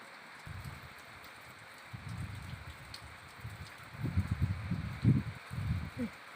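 Soft, steady rain falls outdoors, a faint hiss with patters that grow slightly stronger toward the end.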